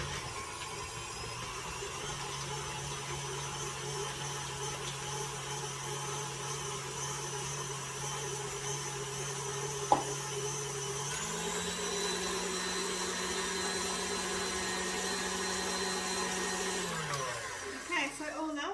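An electric mixer beats carrot cake batter with a steady, loud mechanical whir that holds a constant pitch, steps up in speed partway through, then winds down at the end, with occasional talk over it.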